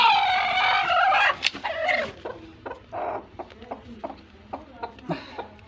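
A brooding turkey hen sitting on a clutch of about ten eggs on a farm in Darrang, Assam, clucks loudly at first, then gives softer scattered clucks while a person talks nearby.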